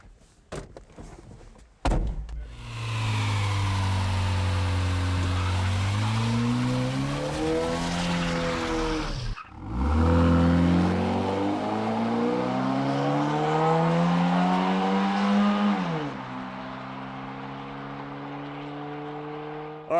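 Nearly stock Honda fitted with a cold air kit, revving up and accelerating hard at a drag track, engine pitch climbing through two long gear pulls with a brief break between, loud and close.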